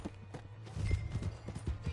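Horse hooves clip-clop in a steady rhythmic gait in the video game Red Dead Redemption 2, close and clear, growing louder partway through, with no talking.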